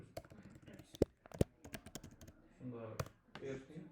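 A surname is typed on a computer keyboard, with close, crisp key clicks tapping in an irregular run, some louder than others. A voice then speaks over the last stretch.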